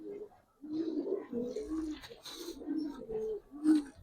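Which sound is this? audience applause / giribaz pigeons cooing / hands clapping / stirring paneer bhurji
giribaz pigeons cooing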